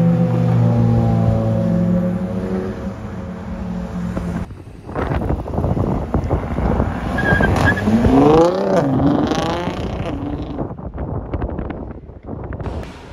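Cars pass by during a Cape Town summer breakfast run, including a Mercedes-Maybach GLS 600. One engine revs and sweeps close by, followed by wind buffeting on the microphone.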